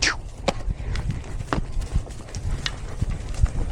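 A horse trots on a loose rein outdoors, its hooves beating a quick, steady clip-clop rhythm close by, with some tack rattle and breathing mixed in.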